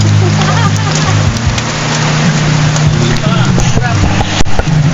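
Loud, dense rain pouring down with a steady hiss and rumble, voices talking under it and occasional sharp knocks.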